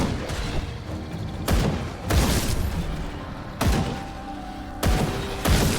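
Musket shots in the video game Grim Dawn: several heavy, booming blasts spaced about a second apart, each with a deep thud and a lingering rumble between shots.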